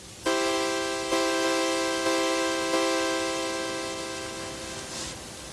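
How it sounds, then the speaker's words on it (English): A Commodore 64 synthesized sawtooth guitar-like tone plays a few repeated buzzy plucked notes, each sustaining and slowly fading, with no voices. "Here's a guitar. Listen to the difference."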